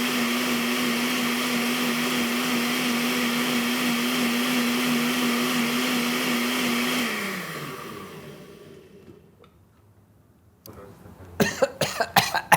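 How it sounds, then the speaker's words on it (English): A kitchen blender whirs loudly and steadily as it purees Peruvian ají chili paste with chicken broth, then spins down and falls quiet, followed by a few sharp clicks and knocks. "be careful when you open the blender"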